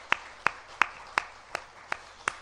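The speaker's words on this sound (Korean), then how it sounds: "우리 한혁우 장로님과 이병호 장로님 우리 박수로 환영하겠습니다" Light, sparse applause in a church after Sunday worship, welcoming two elders, with about seven evenly spaced claps ringing softly over quiet room tone.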